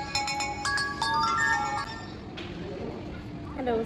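A telephone rings while calling a real estate builder's head office, repeating tonal bursts loud and close, then a short pause as the line continues.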